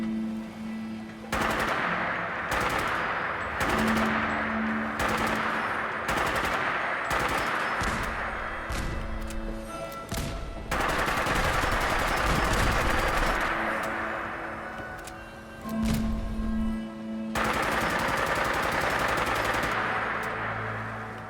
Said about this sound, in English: right now Rebi will be firing the battle rifle at these defenseless gas cans